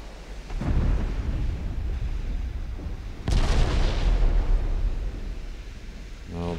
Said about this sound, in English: Starting to be bothered by those 8-inch guns again.